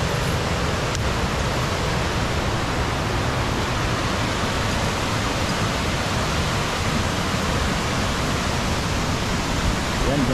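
Water rushes hard and steady at Malatap Falls in the Philippines, a close, dense roar filling the whole stretch without a break.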